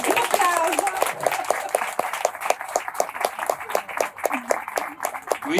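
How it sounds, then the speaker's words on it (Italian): An audience at an Italian talk on household care claps in a rhythmic, unison beat of sharp, evenly spaced claps, moderately loud, while voices and a child's speech carry on beneath. "Un applauso."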